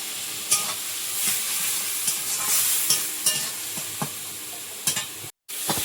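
Spices fry for a fish curry with tomato, salt, turmeric, coriander and cumin powder, sizzling steadily in a pan while a spatula stirs and scrapes in irregular strokes; the sizzle drops out briefly near the end.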